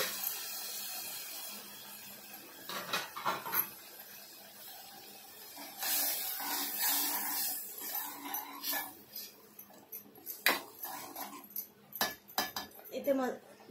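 A masala-stained plate being washed at a sink, with running water, scrubbing and irregular clinks of dishes and utensils that grow busier and louder toward the end.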